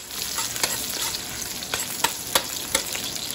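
Garlic and onion sautéing in a pan for bistek, a steady close sizzle broken by several sharp scraping stirs spaced through the stretch, with no talking.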